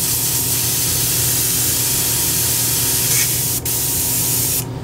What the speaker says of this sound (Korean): 그렇게 해서 한번 분사를 시킵니다.